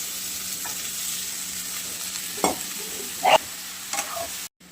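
Capsicum and potato pieces sizzle steadily in a pan, with a few louder scraping stirs standing out briefly over the constant frying hiss.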